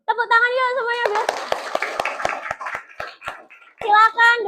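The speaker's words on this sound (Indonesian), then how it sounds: "Tepuk tangan yuk semuanya, guys." Classroom of children applauding together, a burst of sharp claps under a teacher's voice, with speaking before and after the clapping.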